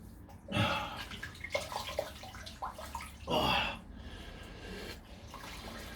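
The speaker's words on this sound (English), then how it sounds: "So what I'm going to do right now is just wet the face." Water splashing as a face is wetted before a shave with a Bic 3 razor, two louder bursts of splashing and dripping close by, with quieter trickles between.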